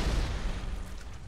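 A grenade explodes in Halo 2 with a heavy, booming blast, its deep rumble loud at the start and slowly fading over about a second.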